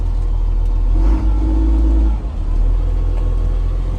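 A yard vehicle with gears and reverse runs close by: a loud, steady low engine rumble with a slight dip in the middle, as if the throttle eases briefly.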